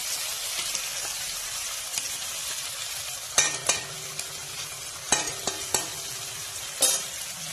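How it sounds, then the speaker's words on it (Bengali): Spice-coated tilapia fries slowly in a pan over a low flame. A constant sizzle is broken by several sharp scraping and clinking stirs, close and fairly loud. "এখানে ধীরে ধীরে মাছটাকে এভাবেই ভাজতে হবে।"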